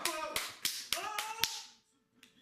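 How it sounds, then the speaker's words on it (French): A handful of sharp, separate hand claps ring out close and crisp, about six in an uneven rhythm, then trail off into near silence with a last faint clap. "Je pense qu'on peut l'applaudir."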